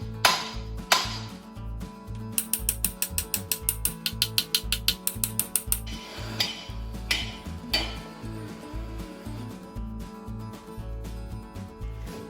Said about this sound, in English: We're only using like the world's biggest wrench though.